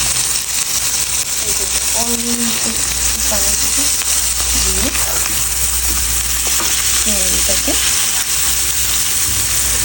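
Prawns frying with ginger, garlic, turmeric and chili powder in a pan give a steady, loud sizzle, with scraping stirs cutting through in short bursts throughout.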